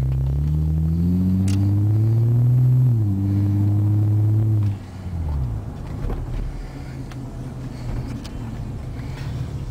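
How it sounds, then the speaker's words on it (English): Deep, steady exhaust drone from an Acura RL with a Remus catback exhaust while driving, held loud for several seconds before easing off into a softer rumble of road noise. "I'm gonna go on a straightaway so you guys can hear it. Sounds very nice. I'm happy with it. It's a very deep tone."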